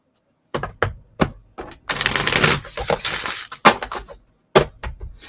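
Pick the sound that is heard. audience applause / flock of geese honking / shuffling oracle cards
shuffling oracle cards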